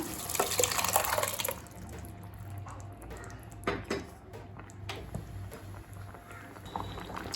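Water runs and splashes steadily into a cooking pot of sambar with lentils over a low background hum, with a few clinks and knocks near the end.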